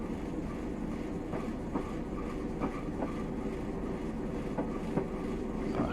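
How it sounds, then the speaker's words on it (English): Class 101 diesel multiple unit in Train Simulator Classic rolling over points on the Wearhead to Durham line, a steady rumble broken by repeated sharp wheel clicks and clacks at irregular intervals, with no voices. "once the entire train is off those points that we've just gone over"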